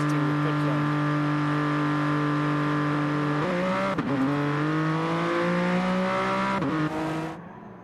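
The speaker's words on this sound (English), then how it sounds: "at the trainer cars exiting the pit lane" Race car engines in a racing video game, set at the Barcelona-Catalunya circuit, drone steadily as the cars exit the pit lane, their pitch shifting as they accelerate and change gear, loud and continuous.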